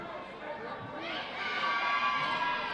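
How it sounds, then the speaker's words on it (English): A gym crowd packed with North Lawndale students cheers and shouts at a high school basketball game after a made free throw, the noise swelling from a murmur to a loud sustained roar. "In the crowd goes wild."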